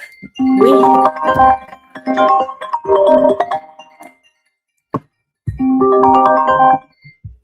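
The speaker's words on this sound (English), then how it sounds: "it is ringing on my watch, on my laptop, on my phone, all at the same time" A melodic phone ringtone plays loudly in repeated bursts, pausing briefly before starting again.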